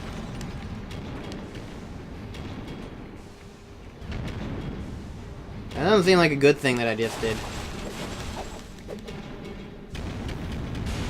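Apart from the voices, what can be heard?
explosions in video game Spyro: A New Beginning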